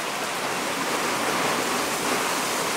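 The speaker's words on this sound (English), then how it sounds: "That bloody rain coming down." Heavy rain pouring down in a dense, constant hiss, loud and unbroken with no voices.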